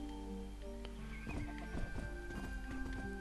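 Horse hoofbeats from the Nintendo Switch game Horse Club, a steady clip-clop of a ridden horse over a humming background with faint game tones, moderately quiet and continuous.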